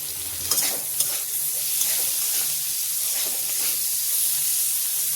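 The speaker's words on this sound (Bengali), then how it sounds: "এখানে কি সুন্দর আলু, গাজর, পেঁয়াজ সব ভাজা হয়ে গেছে। দিয়ে দিলাম কেটে রাখা টমেটো।" Potato, carrot and onion fry in a hot pan as chopped tomato goes in, giving a steady close sizzle with a few sharp clacks of stirring near the start.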